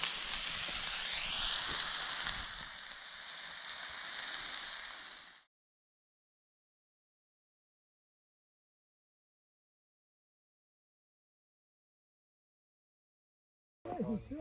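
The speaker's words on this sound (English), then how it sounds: "cooking up some pork chops and rissoles" Pork chops and rissoles fry in a pan at an outdoor gathering, giving a dense, steady sizzle for about five seconds before the sound cuts to silence.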